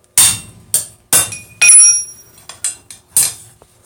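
A heated rivet tong is hammered on an anvil at a blacksmith's forge to drift the opening wider for a rivet. Sharp ringing metallic strikes come close and loud, about seven of them in quick uneven succession, with a bright anvil ring.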